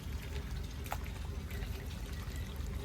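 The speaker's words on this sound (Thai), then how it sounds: "แล้วก็เฮาก็มาล้างแล้วนี่ก็ เทาะน้ำล้างไปเลย" Water pours and trickles steadily over sliced white mushrooms being rinsed in a basket, a continuous close splashing stream for about three seconds.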